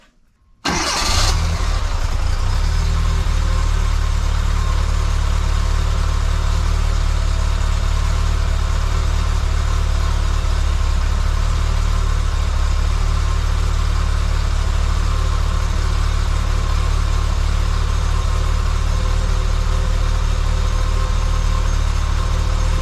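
A 1984 Bertone X1/9 engine with L-Jetronic fuel injection cranks and catches after a brief silence, then settles into a steady, loud idle rumble that continues unchanged.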